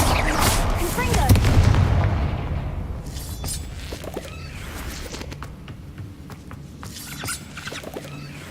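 A Confringo fire spell goes off in Hogwarts Legacy, a booming blast with crackling debris near the start that fades into scattered impacts and rattles. Game ambience continues underneath.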